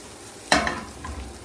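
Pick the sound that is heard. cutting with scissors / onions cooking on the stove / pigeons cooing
onions cooking on the stove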